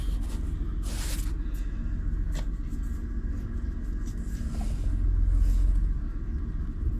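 A Nissan 300ZX with a newly replaced fuel pump and weak brakes drives along with a steady low engine rumble, swelling louder toward the end, plus faint scattered clicks and rattles inside the car.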